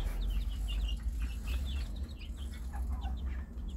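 Free-range chicks peeping in small, rapid, high chirps scattered throughout, over a steady low rumble of background noise, with no talking.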